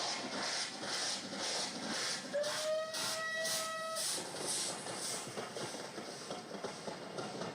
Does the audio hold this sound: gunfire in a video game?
no